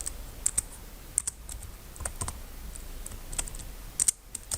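Keys clicking on a computer keyboard while an HTML form input is typed, irregular bursts of taps, some in quick pairs, close and moderately loud over a quiet background with no talking.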